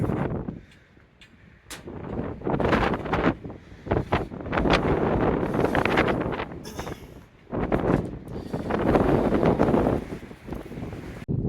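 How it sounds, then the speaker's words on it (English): Strong morning wind in Georgia buffeting the microphone in loud roaring gusts, easing briefly before surging again, no speech. "But it's super windy this morning"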